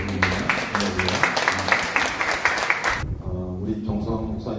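Church congregation claps in praise, producing dense, even applause for about three seconds before it stops abruptly, leaving quieter room noise and faint voices.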